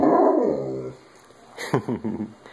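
A puppy named Tsunami gives a burst of several quick, close barks and yips after a brief voiced whine, with a person's voice heard at the start.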